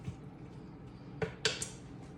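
Chicken being stirred in a Pampered Chef multicooker pot: a few quick, faint clinks and scrapes of a utensil against the pot over a quiet background.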